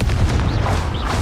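A Confringo blasting spell explodes in Hogwarts Legacy, a loud, close, deep boom with rumbling low end and a couple of brief higher whooshing streaks through the burst.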